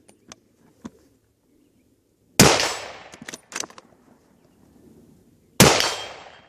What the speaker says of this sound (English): Okay, I pulled the trigger.